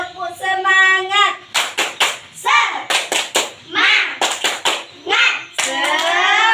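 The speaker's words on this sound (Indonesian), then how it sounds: "Sekali lagi ya. Tepuk semangat." Classroom children repeat the tepuk semangat clapping chant, a teacher's voice followed by rhythmic groups of sharp claps interleaved with children's shouted chanting, close and loud.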